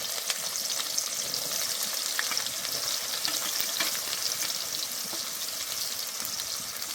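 Chopped onion sizzles in hot oil for a jackfruit and prawn dish, giving a continuous bright crackle with occasional stirring sounds, steady and close, with no talking.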